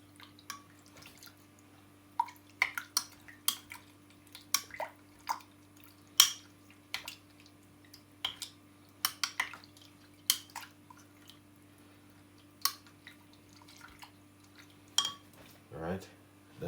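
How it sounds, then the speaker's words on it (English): A spoon clinks and scrapes against a glass while a beetroot drink is stirred, giving scattered sharp taps and rattles against a quiet background with a steady low hum. "Mix it really well."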